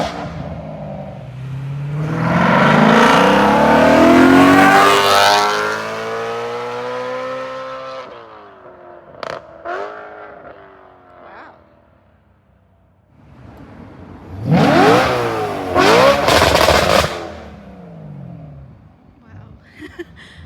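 A BMW E92 M3 with a custom double X-pipe Valvetronic exhaust revs hard in two loud bursts, each climbing and falling in pitch, with quieter idling and brief blips between them.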